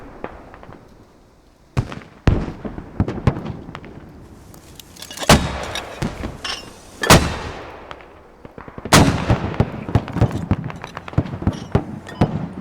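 A Squad battlefield with artillery rounds going out: loud booming shots and cracks scattered over several seconds amid rumbling battle noise, some near and some more distant, with no talk.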